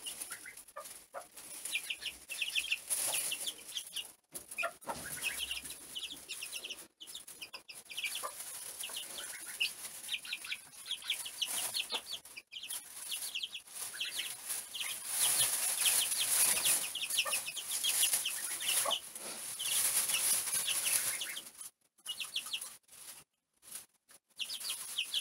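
Chickens cluck and murmur continuously nearby, soft repeated clucks over a steady hissy farmyard background, with a few brief rustles.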